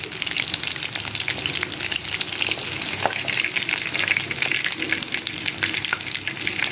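Chicken pieces for a simple chicken fry sizzle and crackle steadily in hot oil in a pan, a dense, continuous frying hiss with occasional pops throughout, close and fairly loud with no talking.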